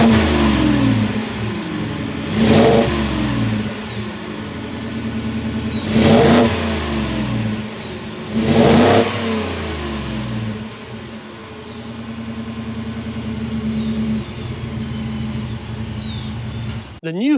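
A 2021 Ford F-150 XLT with a 5.0-liter V8 revs loudly three times in a row, each sharp rise falling back to a deep steady idle, close to the truck.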